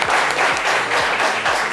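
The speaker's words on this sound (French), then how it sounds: "Merci, applaudissements pour Hervé Simoni" Studio audience applause for a guest on a French talk show, a short burst of steady, close clapping with rhythmic beats underneath.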